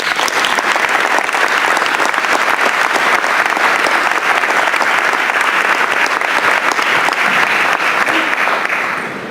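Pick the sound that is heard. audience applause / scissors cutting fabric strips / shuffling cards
audience applause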